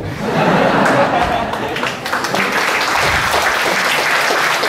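Audience of about 2,000 at a Buddhist vihara talk breaking into applause: a broad wash of clapping that swells and holds, mixed with scattered chuckles and crowd murmur, loud and close.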